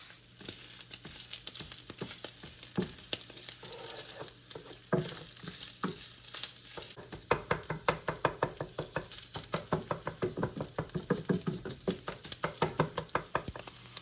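Sausage browning in a hot pan, a continuous crackling sizzle close by with repeated rhythmic scraping and stirring knocks of a utensil growing stronger and more regular in the second half.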